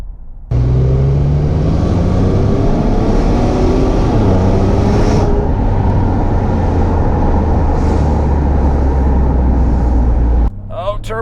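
A 2017 Ford Explorer Sport with a turbocharged EcoBoost V6 accelerating hard from inside the cabin, a loud steady engine drone rising in pitch with a faint turbo whistle, ending in a brief voice.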